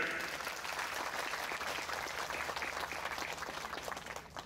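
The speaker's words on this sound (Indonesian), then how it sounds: "Tepuk tangan." Applause from a crowd at an evening religious gathering, with steady dense clapping that continues throughout at moderate loudness before easing slightly at the end.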